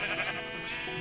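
A flock of sheep bleating steadily in a blocky mining video game, with overlapping, fairly loud calls running through a one-second stretch and no talk.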